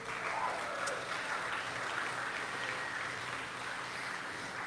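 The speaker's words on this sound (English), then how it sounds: "Let's give those folks a big round of applause." Steady audience applause at a folk music event honoring a folksinger, a dense, even patter of clapping hands that holds at moderate level throughout with no voices.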